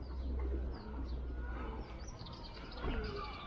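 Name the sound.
pigeons cooing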